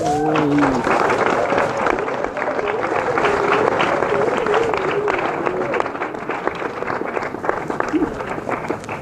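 School assembly audience applauding members named to a provincial netball training squad, a dense steady wash of clapping lasting throughout with a faint voice or whistle-like tone and crowd murmur mixed in, easing slightly near the end.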